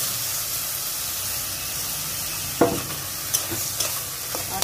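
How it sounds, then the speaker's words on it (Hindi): Boiled urad dal is stirred into a sizzling tadka in a pan, giving a steady hiss of frying with a few sharp spoon scrapes and clinks near the end. "सब कुछ एक साथ अच्छे से मिक्स करेंगे।"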